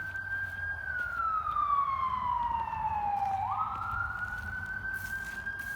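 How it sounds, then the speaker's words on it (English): A siren wails steadily, then sweeps down and back up as an emergency vehicle passes close by a yard with shrubs and plants, loud and alone without talk. "I'm sorry for the ambulance."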